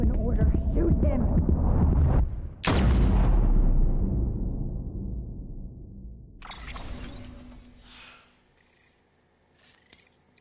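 A single loud, close gunshot in the video game Death Stranding, ringing out with a long decaying tail, followed later by fainter clatter and effects while voices speak around it.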